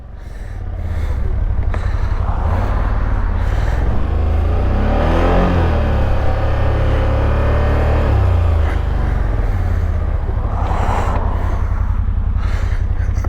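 A very fast four-wheeler ATV launches in two-wheel drive, its engine roaring loud and close with rising revs and a sustained rumbling drive throughout.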